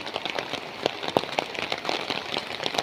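Rain patters steadily on a house in the mountains, a dense hiss of drops with scattered sharper taps, close and continuous with no voices.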